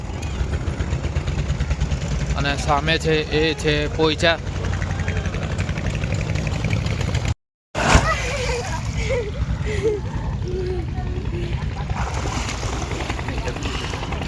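A boat's engine drones low and steady on a foggy river crossing, a constant rumble running beneath someone talking, briefly cut by a moment of silence.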